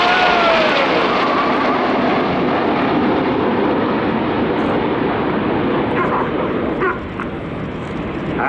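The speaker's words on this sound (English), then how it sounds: "As the jets come over in big battle formation with the red, white and blue smoke on" Red Arrows jets pass over in big battle formation at the 2018 Royal International Air Tattoo airshow, a loud, continuous jet roar that fills the whole stretch and eases slightly near the end.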